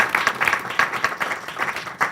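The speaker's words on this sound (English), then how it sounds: "So let's give them a round of applause" Panel-discussion audience giving a round of applause for guests: a short burst of scattered, uneven clapping from a modest crowd, moderately loud and alone.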